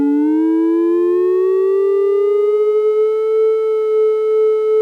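A Roland System 100 synthesizer's triangle wave oscillator gives a clean, steady tone that glides slightly upward in pitch, then holds alone and loud.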